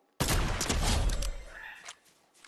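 Loud, dense burst of gunfire in Fortnite on the original Chapter 1 map, a sustained crackling volley near and forceful that fades over a second, with no talk over it.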